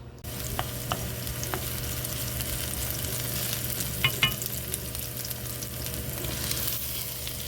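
Fish cake stir-fries with onions and green onion leaves in a pan, a low, steady sizzle with a few sharp scraping clicks from stirring scattered through it, quiet and close, no voices.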